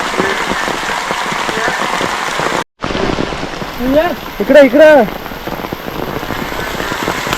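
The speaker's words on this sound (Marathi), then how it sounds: "पावसाचा जोर आहे ना जाम वाढलाय पावसाचा जोर भरपूर वाढलाय" Heavy unseasonal rain drums steadily on surfaces outdoors during crab catching, a dense continuous patter with a brief dropout, while a man calls out and talks over it.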